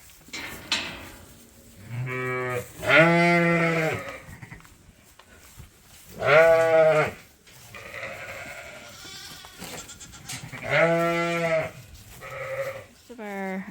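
Sheep and lambs on a farm bleat in three loud, drawn-out bursts with softer calls between, close by, with no talk over them.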